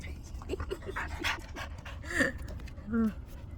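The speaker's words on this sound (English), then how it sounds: "Tazzy is sniffing me because I was around the puppy." A dog pants and snuffles close by, quick breathy bursts with a couple of louder huffs, while a person speaks over it.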